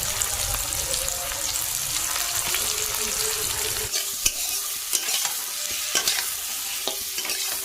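Onion, chili and chopped tomato fry in a pan with steady broadband sizzling, broken after a few seconds by sharp stirring scrapes and clicks, close and moderately loud.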